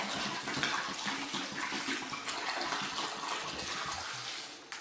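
Water gushing steadily into a pot holding a raw turkey being prepared for roasting, a close continuous pour with splashing and no voices.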